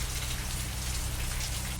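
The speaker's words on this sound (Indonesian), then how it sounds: "hujan mulai reda." Steady rain pattering on a surface outside a roadside food stall, a dense continuous hiss of drops with a low rumble beneath, close and even throughout with no voices.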